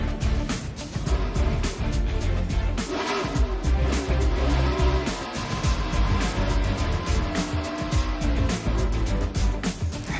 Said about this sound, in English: Here's a little different view of the burnouts.